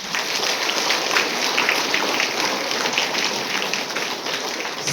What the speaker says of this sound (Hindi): अपने तालियों से हम स्वागत करते हैं